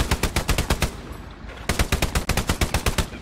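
Rapid automatic gunfire in the World War II shooter Hell Let Loose: two loud, close bursts of evenly spaced shots separated by a brief pause.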